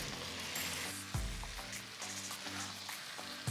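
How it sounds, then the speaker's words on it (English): Boiled potato pieces are stirred with masala in a pan for a vegetable side dish. A steady sizzle runs under soft scraping, with two heavier spatula knocks near the start and end, close and fairly loud. "Now gently mix the masala with potato pieces."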